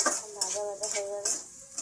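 Potatoes stirred and fried in a pan, a spatula making repeated rhythmic scraping strokes against the pan over a sizzle, close and fairly loud, with a faint voice murmuring underneath.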